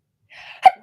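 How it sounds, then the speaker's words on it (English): A single sharp sneeze bursts out after a short, breathy intake, close and sudden in an otherwise quiet room. "Go sneeze."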